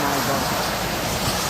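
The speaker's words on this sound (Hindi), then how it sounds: "बहुत विंड, बहुत हवा चल रही है, बहुत ठंड है" Strong wind roars steadily beside a highway in cold weather, a dense broadband rush with no breaks, loud and close as though buffeting the microphone.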